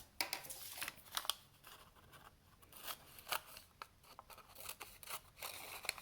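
Scissors snip paper to cut out the legs of a handmade Chewbacca bookmark, a quiet run of short, close crisp cuts and rustles with brief pauses between them.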